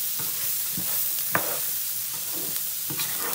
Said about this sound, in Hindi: तो थोड़ी देर के लिए फ्राई करेंगे।